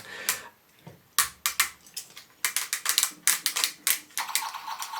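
Sharp, plastic ratcheting clicks from the joints of a Transformers Armada Starscream toy in quick irregular bursts, close and crisp, with brief pauses between runs of clicking.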